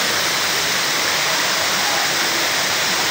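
Balagbag Falls waterfall in Real, Quezon, a loud, steady broadband roar of falling water heard close up and unbroken throughout.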